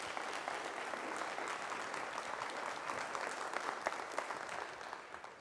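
Audience at a Franklin County candidate forum at East Central College applauding, dense continuous clapping from a room full of people, steady and even before tapering at the end.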